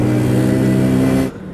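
A car with a very large exhaust revs in a steady, loud, close drone for over a second before cutting off abruptly, leaving faint low rumble.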